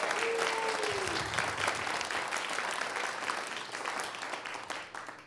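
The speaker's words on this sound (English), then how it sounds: "they deserve a round of applause for everything they did" Applause from a community meeting audience at a riverside gathering, a broad steady round of clapping that starts full and slowly thins over several seconds, heard alone.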